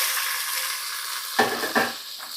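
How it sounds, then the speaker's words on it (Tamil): A soft, constant sizzle of oil in a pan for a fish curry base jumps into two louder, crackling bursts as crushed onions drop in among mustard seeds and fenugreek. "இந்த வெங்காயத்தை போட்டுடலாம். பாருங்கள், இப்போ வெங்காயத்தை ஆட் பண்ணிக்கலாம்."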